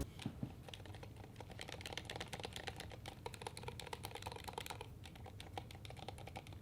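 A custom-built gaming keyboard without a dampener is typed on up close, producing a dense, continuous rattle of crisp key clacks at a fast, uneven rhythm with no talking.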